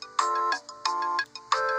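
A phone ringing in Roblox, a clean electronic ringtone in three quick bursts with short gaps, close and clear with no talk.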